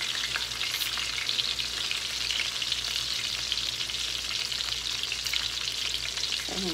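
Pork chop fries in a pan with a steady, loud crackling sizzle that runs unbroken throughout, with no talk.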